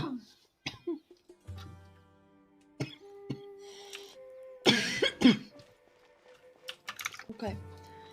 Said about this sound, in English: Since my coughing is getting worse, I'll end the stream here.